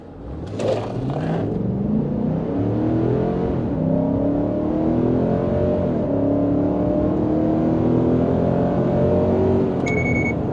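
A 2021 Nissan Titan Pro-4X pickup truck engine revs hard as it accelerates from 0 to 60, its pitch climbing in repeated stepped rises through the gears, loud and close, with a brief beep near the end.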